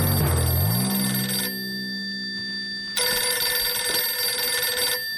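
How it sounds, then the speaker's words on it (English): A telephone rings with electronic bell-like bursts, one long burst, a short pause, then another burst, loud and close with no talking. "It's the phone."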